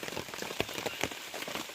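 Heavy morning rain pours down steadily, a dense continuous patter of drops striking surfaces nearby with no voices.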